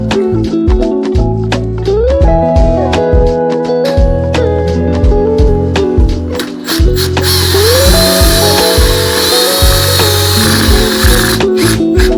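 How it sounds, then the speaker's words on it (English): A loud, continuous electric drill whirs and changes pitch as it bores a hole in a wooden perch, with rising and falling motor tones throughout and no talking. "Gotta drill the hole in the perch."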